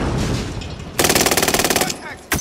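Rapid automatic gunfire from Call of Duty: Modern Warfare, a loud, evenly paced burst of shots lasting about a second after a moment of game noise, then one more sharp crack.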